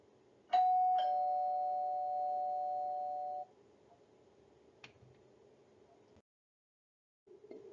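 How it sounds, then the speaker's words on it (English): A two-tone ding-dong doorbell chime sounds once, clear and close, its second tone ringing out and slowly decaying in an otherwise quiet room. "No one makes cookies like Grandma, said Ma, as the doorbell rang."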